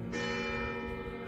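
Church bells ring in the old town of Fara San Martino in Abruzzo, Italy, a steady, fairly distant resonant peal that continues throughout without speech.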